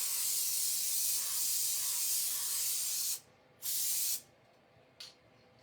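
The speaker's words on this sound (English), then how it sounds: "So you can see it kind of spraying everywhere." A can of spray adhesive hisses in a long continuous spray, then gives two shorter bursts and a final quick puff, close by.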